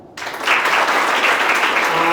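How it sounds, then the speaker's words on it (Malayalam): An audience at an academy commencement day bursts into clapping on cue, the applause starting abruptly after a quiet moment and then holding strong and even for about two seconds. "അപ്പോൾ ആഫ്റ്റർ വെൽക്കം നല്ലൊരു ക്ലാപ്പ് വേണം."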